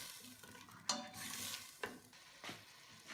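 Spices with salt, red chilli, turmeric and dried plums stir-fried for chicken tikka biryani, a soft low sizzle with a few distinct spoon scrapes against the pan, quiet and close, no talking.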